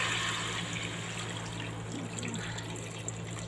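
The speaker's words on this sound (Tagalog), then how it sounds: "lagyan na natin siya ng tubig" Steady water runs and splashes into a cooking pot on a kitchen stove, a continuous close pour that holds its level from start to finish with no talking.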